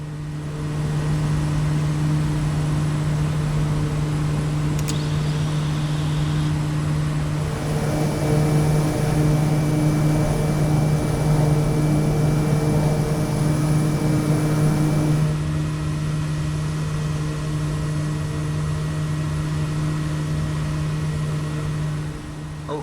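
A Kodiak 100 turboprop climbs with autopilot engaged in Microsoft Flight Simulator 2020, its engine giving a steady, loud, droning hum with a constant tonal whine that runs unbroken throughout.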